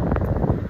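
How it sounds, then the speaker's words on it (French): Strong wind buffets a microphone outdoors, a dense, low, rumbling roar that is steady and close throughout the brief moment, with no talking. "là il y a trop de vent"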